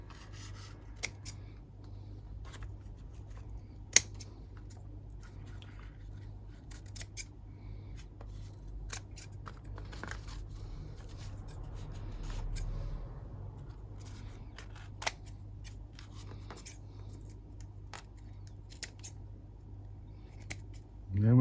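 Scissors trimming folded paper for a vintage notebook craft, a few quiet snips and rubbing sounds at low level under faint room noise, no talking.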